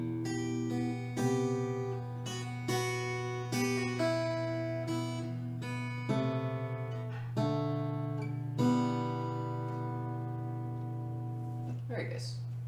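Fingerstyle acoustic guitar picking the melody of a song, with clear plucked notes ringing over a sustained low bass string in a slow, steady pattern, close and alone.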